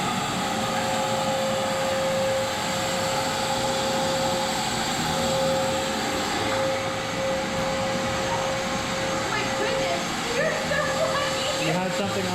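A vacuum cleaner runs continuously between floor tiles after wax removal, cleaning the grout lines before grouting in a dining room and hallway; a steady, loud motor drone holds the whole time.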